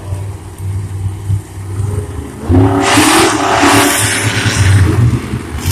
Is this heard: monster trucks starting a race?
yes